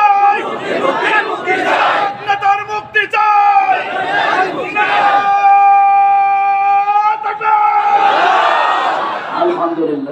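A large crowd at an outdoor religious sermon roars a chanted reply to a takbir call, loud rhythmic group shouting in several bursts alternating with a leader's amplified voice.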